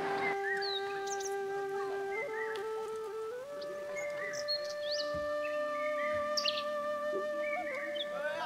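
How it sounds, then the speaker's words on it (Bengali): Birds chirp around a hillside homestay in South Sikkim, many clear whistled calls and tweets overlapping at different distances over a quiet background, with no voices. "শুধু পাখিদের কলরব আর কিচ্ছু নেই"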